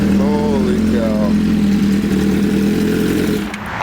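A hyper naked motorcycle's engine revs loudly and steadily close by, a deep sustained drone that fades near the end, with excited voices over it.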